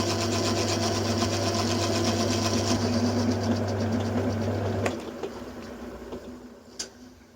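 Steady lathe whir with a rough scraping hiss from skimming a BTH CA 4750 starter motor commutator that runs for several seconds, then drops away to quieter running and a couple of clicks.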